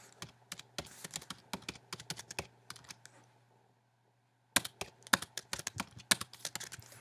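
Keystrokes on a computer keyboard as a post title is typed, quick irregular clicks in two bursts with a brief pause between, close and clear with no talking.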